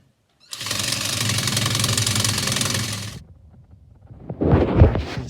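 A drill bores a hole about 1 1/16 inch wide for a boat centerboard, producing a steady, loud whirring grind for nearly three seconds. It stops abruptly and is followed by a few fainter thumps and rustles.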